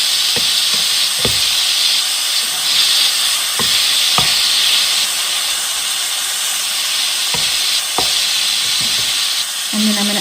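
Beef tips brown in a hot pan with a constant loud hissing sizzle, punctuated by occasional clicks and taps of a utensil, close up with no talking.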